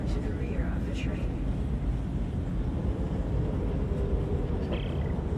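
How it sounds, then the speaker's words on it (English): A tram in the video game Dead Space 3 rumbles steadily, a dense low-pitched mechanical roar holding at constant loudness for several seconds, with faint metallic squeals and brief high tones scattered over it. "Skip's waiting for the tram to get in a position."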